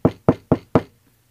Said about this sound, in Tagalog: Magluluto na sana si Adele nang may biglang kumatok sa pinto.